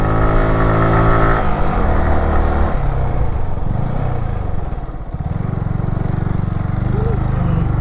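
A motorcycle engine labouring up a steep mountain road near Thanchi, Bandarban, a loud close drone that shifts pitch as the gears and load change, with wind rumble and a brief voice near the end.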